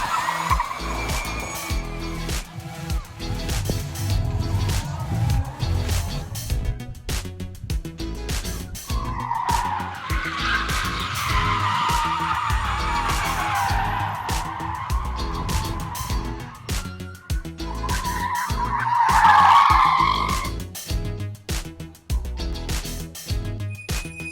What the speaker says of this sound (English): So that is the Ford Mach-E 1400.